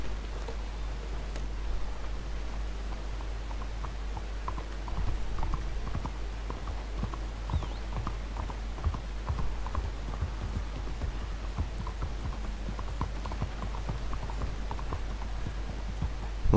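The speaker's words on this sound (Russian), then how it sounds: "Так, лошадка." Horse hooves clip-clop in a steady walking rhythm in Red Dead Redemption 2, a continuous soft clatter over a low ambient hum.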